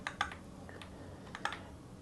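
Keystrokes on a Kiiboom Phantom 81 mechanical keyboard: a few crisp, quiet clicks spread across two seconds as a shortcut combination is pressed, with no talking.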